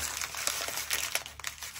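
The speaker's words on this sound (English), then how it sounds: "I'm gonna grab this just random paper, crumple it up," Random paper being crumpled by hand for a mixed media journal cover project, a close, busy run of crinkling and crackling that carries on without pause for the whole short stretch, with no talk over it.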